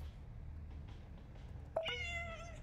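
A house cat gives a single short, bright chirping call, close by and clear, over a quiet room hum.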